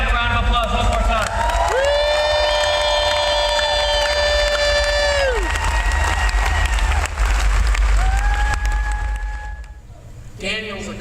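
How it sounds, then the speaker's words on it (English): Loud crowd applause and cheering at a live gathering, with a long sustained tonal blast like a horn or whistle riding over the clapping, then a shorter one, before the noise fades near the end. "So give these guys a round of applause one more time."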